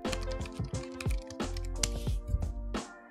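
Rapid, irregular keystrokes on a cheap chiclet-style computer keyboard clatter close by in uneven bursts, with a steady tonal hum running underneath throughout.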